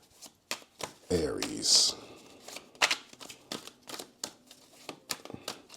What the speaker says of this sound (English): I reshuffled the deck.